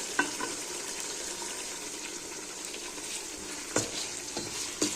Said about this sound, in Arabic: نخليه يتقلى الكل مع بعضه.